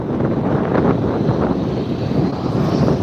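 A Southwest Airlines 737 roars steadily as it departs LAX, a loud, broad jet-engine rumble mixed with wind buffeting the microphone, with no voices heard.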